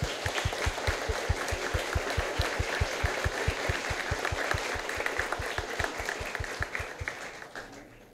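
Wedding guests applauding at a church ceremony, a rapid, even rhythm of claps repeating steadily, moderately close, fading out toward the end.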